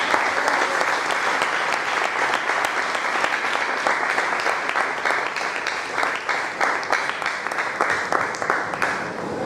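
Steady, loud applause from a large audience, dense clapping that holds throughout with no voices standing out.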